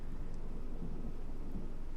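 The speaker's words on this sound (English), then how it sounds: "It's thunder in the background" Distant thunder rolls as a low, continuous rumble under steady rain on a dark, dreary day, with no voices.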